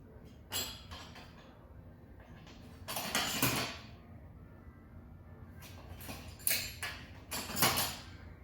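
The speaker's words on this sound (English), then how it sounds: "A small pry bar." A small pry bar works against the metal housing of a Mini 300 torque hub, giving a few scraping, creaking bursts separated by quieter stretches, close up and moderately loud.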